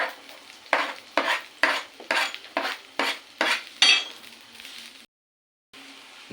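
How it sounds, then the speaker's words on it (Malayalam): Long-sliced onions stirred in a metal pan while cooking for a Kerala curry: a run of about eight sharp scraping strokes with light clinks over a soft sizzle, then a brief cut to silence and a faint return. "2 സവാള നീളത്തിലരിഞ്ഞത് ചേർത്ത് കൊടുക്കുക"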